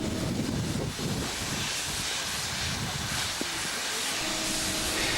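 Great Western and other steam locomotives on shed at Bury on the East Lancashire Railway, a loud continuous hiss of escaping steam with a low rumble beneath, steady throughout.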